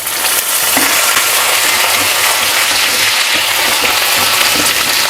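Onion and curry leaves frying in a hot pan for a chicken gravy, a loud steady sizzle with faint stirring scrapes, close up and without talk.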